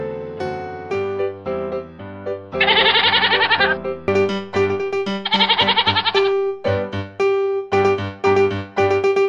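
A goat bleats again and again in loud, close, wavering cries, with two long quavering calls standing out among shorter repeated bleats.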